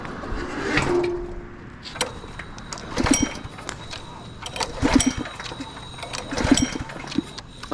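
An air compressor runs at a roofing job site, a steady motor hum with a faint high whine and loud mechanical surges recurring every second or two, close by and without talk.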